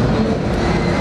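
Steady rumbling train noise from the railway management game Railway Empire, a continuous loud rolling drone with no talk over it.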